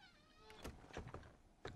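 Door of a house swinging shut in the H1Z1 survival game, a few short thuds and a creaking slide within under two seconds, fairly quiet.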